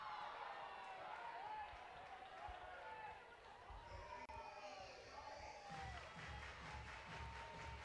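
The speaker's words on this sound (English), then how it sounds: "Home crowd trying to stand up for Tiana Bell right there." Home crowd at an NCAA softball game between Georgia and Arkansas, cheering for batter Tiana Bell, a sustained distant roar of voices and shouts under close commentary.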